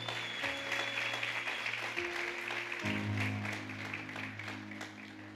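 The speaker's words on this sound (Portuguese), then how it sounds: "Aplauda o Senhor." A church congregation at a celebration service applauds, steady, dense clapping that fills the room and slowly fades slightly, with sustained tones and an occasional voice underneath.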